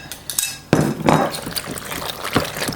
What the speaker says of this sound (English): So now all I'm going to do is go ahead and add the half and half and egg and mix that up.